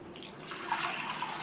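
Water is poured into a pan of soaked moong dal with a pinch of turmeric to cook it for a snake gourd side dish. A short, close, steady splashing pour is heard alone.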